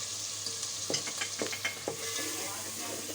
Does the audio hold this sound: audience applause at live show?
no